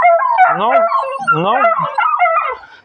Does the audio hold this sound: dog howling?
yes